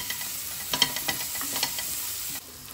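Onions and ginger-garlic paste fry in hot oil with cumin seeds while a spoon stirs them, giving a steady, close sizzle broken by soft scraping clicks, with no voices.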